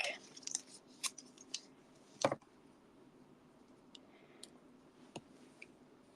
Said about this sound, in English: Just make sure I've got that on there long enough before I go cut those.